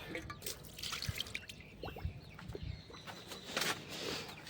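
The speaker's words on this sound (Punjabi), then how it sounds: "ਆਪਾਂ ਪਾਣੀ ਇੱਕ ਵਾਰੀ ਭਰਪੂਰ ਲਈਏ" Water drips and trickles in small splashes into a pigeon house water dish, with faint bird calls and clucking in the background.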